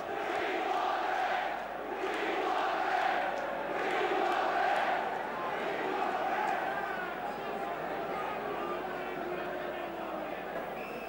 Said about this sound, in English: And the crowd are chanting, "We want a ref."